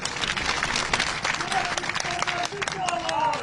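A crowd at a public event in Sabalgarh, Morena, where the Union Agriculture Minister is speaking, breaks into steady, loud applause, with voices and crowd murmur mixed in throughout.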